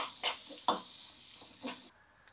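Raw banana bharta being stirred in a pan over a high gas flame: a few quick scraping strokes of a spoon over a soft, faint frying hiss, with no voices.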